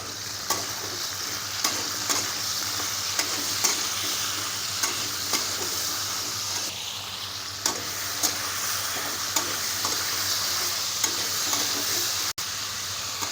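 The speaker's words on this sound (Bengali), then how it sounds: "সবজিগুলো একটু হালকা করে মানে হালকা করে সবগুলো ভেজে নেবেন" Vegetables for a vegetarian navaratna korma, salted, fry lightly over medium heat, giving a steady close sizzle broken by regular scraping stir strokes, with no talk.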